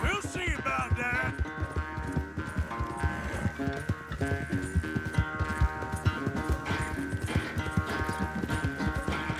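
Hoofbeats of a horse galloping in the video game Red Dead Redemption 2, a fast steady clip-clop pounding under a continuous musical score, with a brief whinny near the start.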